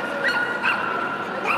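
Staffordshire bull terriers at a kennel club conformation dog show give high, whiny yips and whimpers repeatedly against busy indoor background noise.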